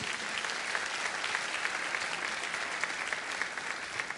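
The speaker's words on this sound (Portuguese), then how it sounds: "dar uma salva de palmas para Jesus." A church congregation at a teaching on the biblical feasts and the Sabbath gives sustained, dense applause. The clapping is steady and even throughout, a full wash of hands with no voices rising above it.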